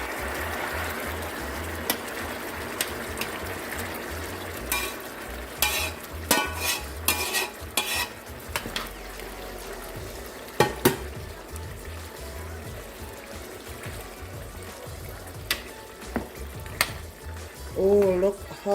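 Jamaican-style oxtail stew stirred in a pot, with utensil scrapes and clatters against the pot over a low simmering bubble, louder bursts of stirring in the middle and near the end.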